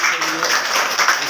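A classroom of schoolchildren clapping together in a steady burst of applause, close and fairly loud, with voices mixed in.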